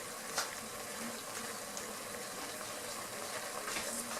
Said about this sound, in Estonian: Tulist vett panen peale.